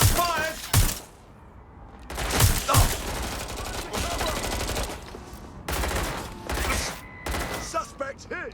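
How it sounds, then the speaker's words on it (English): Bursts of gunfire in Watch Dogs Legion, several loud rapid volleys separated by short gaps, with shouted voices between them. "Shots fired! Shots fired!"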